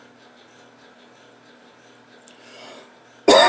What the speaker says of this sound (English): Coughing on it and giving it Corona.